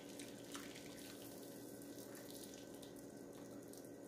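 Water runs steadily from a tap into a roast pot holding a piece of meat, a faint continuous pouring hiss with no talking.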